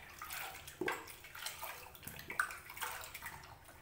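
Silver Krishna idol being washed by hand in water after cleaning with Colgate toothpaste, giving irregular splashes, drips and swishes close by, with a few sharper clinks of metal in water.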